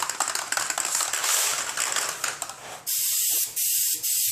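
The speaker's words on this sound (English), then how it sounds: "Make sure it's spraying properly before I shoot the car." A spray gun spraying texture coating during car body refinishing hisses in steady bursts, a long continuous spray followed by several short blasts with brief pauses between them, close and loud.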